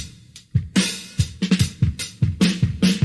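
A chopped drum loop plays alone, pitched down 1,000 cents: punchy kicks and bright snare or cymbal hits in a quick, slightly uneven pattern, loud and close.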